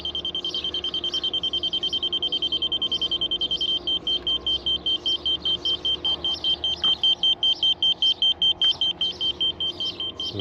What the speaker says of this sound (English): It should start beeping when I get close.